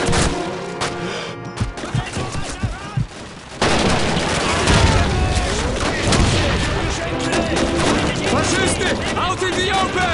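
Dense Call of Duty 2 combat: continuous loud gunfire and explosions crackle and boom, intensifying partway through, with shouted voices mixed into the chaos.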